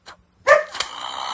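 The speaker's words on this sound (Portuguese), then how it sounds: "tava latindo ali, meu pastor alemão." A German shepherd gives a single sharp bark near the mic during game play, followed by a steady low background hum.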